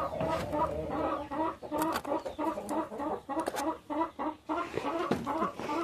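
Brooding hens cluck repeatedly at a farm hatching of chicks, a close, busy series of rhythmic clucks and short calls continuing throughout.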